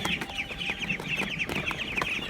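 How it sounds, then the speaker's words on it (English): Guinea fowl clucking and chattering in a rapid, repeated rhythm on a rural smallholding, several birds calling close by and fairly loud with no talk over them. "These guinea fowl"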